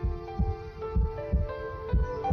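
Heartbeat sound effect: a steady lub-dub rhythm of paired low thumps, about four beats in just over two seconds, over a constant hum.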